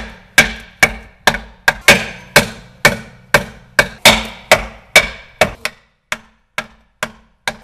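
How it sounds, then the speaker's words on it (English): Wooden 2x4 being struck with a hammer against a car tire during a tire rotation, about fifteen sharp knocks in a steady rhythm, loud and close, with no talking. "So I use a piece of 2x4 and hit it"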